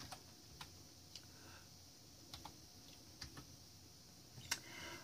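Keys tapped on a computer keyboard while entering a command on a Raspberry Pi-style board, a sparse run of individual clicks spaced out over several seconds, close and quiet in a still room.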